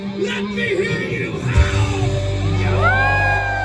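A theme park crowd at a Halloween event at Cedar Point yells and howls together on cue, loud and close, with whoops and a rising wail near the end over a low rumble.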